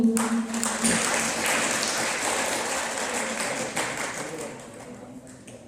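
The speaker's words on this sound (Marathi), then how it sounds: "कृपया उपस्थितांनी टाळ्या वाजवून" An audience applauds steadily at a lecture event, a dense wash of clapping that starts strong and slowly fades, with a faint voice beneath it.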